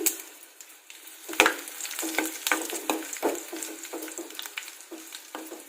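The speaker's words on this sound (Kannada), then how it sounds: "ಸಾಸಿವೆ ಜೀರಿಗೆ ಚಟ ಚಟ ಅಂತ ಇದೆ ಇವಾಗ ಕರಿಬೇವು ಹಾಕ್ತಾ ಇದ್ದೀನಿ ಹಾಗೆ ಒಣಮೆಣಸಿನ್ಕಾಯಿ ಹಾಕ್ತಾ ಇದ್ದೀನಿ" Mustard seeds, cumin, curry leaves and dried red chillies crackle and sizzle in hot oil, a steady frying hiss with irregular sharp pops and spatters close by, no voices.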